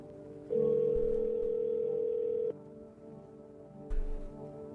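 A steady telephone dial tone hums for about two seconds in the horror game No, I'm Not A Human, then cuts off, followed by a brief click or handset clunk.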